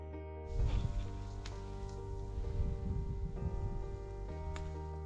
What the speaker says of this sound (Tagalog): Mahigit isang araw na umuulan dito kaya sobra ang pagkabasa.